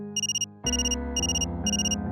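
A phone rings with a bright electronic warble, repeating in short regular bursts, close and clear, with no talking.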